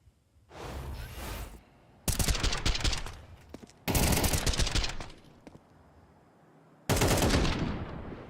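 Bursts of automatic gunfire in a Counter-Strike match at a professional Major tournament, four loud rapid volleys separated by short pauses, with no talk.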